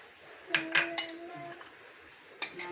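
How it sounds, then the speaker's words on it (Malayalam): Metal spoon clinking against a pot or dish while onion, ghee, cashews and raisins are mixed for a chicken dum biryani, a few scattered clinks and scrapes close by, with no talking. "നമ്മളിതിലേക്ക് വേണ്ട ഉള്ളി, നെയ്യ്, ആവശ്യത്തിനുള്ള അണ്ടിപ്പരിപ്പ്, മുന്തിരി, ഈ 3 സാധനവും കൂടെ മിക്സ് ചെയ്തെടുക്കാം"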